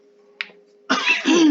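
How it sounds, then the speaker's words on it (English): A man coughs while choking on Takis chips: one brief sharp burst, then a harsher, longer fit of rough coughing with a strained voiced edge, close up. "why am I coughing so much?"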